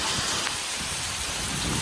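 Heavy rain pouring down during a bike ride through a Konkan village near Lanja, Ratnagiri, a loud, dense, steady wash of falling water heard close by with no talking.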